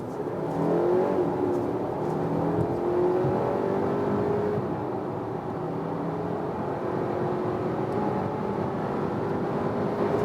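Audi Q5 Sportback PHEV plug-in hybrid accelerating hard from 50 km/h, a steady, loud engine and road drone that builds smoothly through the run with rising whirring tones and no pause.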